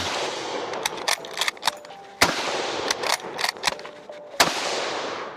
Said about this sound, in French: en tirant ces munitions modernes dans cette vieille arme